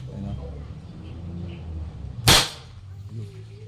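A homemade PVC toy gun fires a single sharp, loud crack, clearly standing out against low background murmur.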